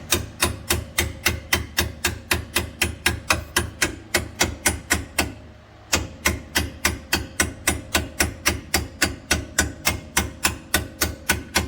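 Rapid, evenly spaced metallic hammer taps strike a rear strut bolt on a 2012 Dodge Journey, loud and close, continuing in a steady rhythm with one brief pause midway.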